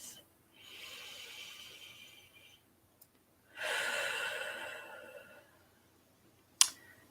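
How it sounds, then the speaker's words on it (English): Deep breaths drawn in and let out slowly during a calm tapping session, two long airy breath sounds close to the listener, with a short sharp click near the end. "And take a deep breath."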